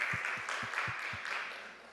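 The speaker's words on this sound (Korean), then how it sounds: "우리 찬양팀, 너무 고생해준 찬양팀에게도 큰 박수를 보냈으면 좋겠습니다" A congregation at a joint youth worship service applauds the worship team, a soft distant wash of clapping with a few distinct rhythmic claps up front, gradually fading.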